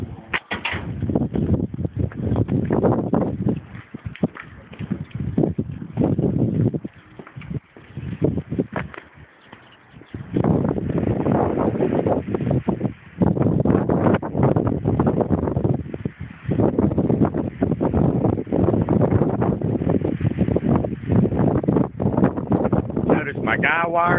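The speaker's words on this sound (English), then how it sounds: "I don't believe you're going to be able to hear my voice over the wind out there" Strong wind gusts batter the microphone outdoors beside a homemade wind generator on a 30-foot pole with guy wires, roaring in loud, uneven bursts with short lulls for the whole stretch.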